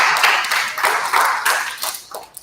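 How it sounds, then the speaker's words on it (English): A small group at a student union general meeting claps for the president, a brief, fairly close burst of uneven clapping that thins out over about two seconds. "let's please welcome a big round of applause for our president"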